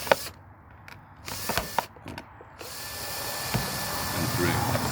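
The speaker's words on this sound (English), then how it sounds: "So I'll just start drilling this" Power drill boring holes through a plastic bird box made from waste plastic, with short sharp bursts of drilling in the first half, then a steadier continuous whirring run building louder toward the end.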